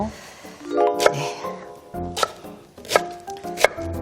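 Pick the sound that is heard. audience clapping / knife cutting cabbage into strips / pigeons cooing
knife cutting cabbage into strips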